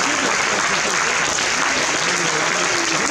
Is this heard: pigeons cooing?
no